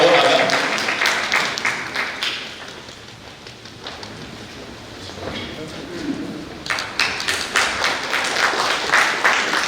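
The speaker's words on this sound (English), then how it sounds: "Round of applause." Crowd applause at a fashion designers association farewell event, dense clapping that thins out midway and then returns in uneven bursts, with a little chatter mixed in.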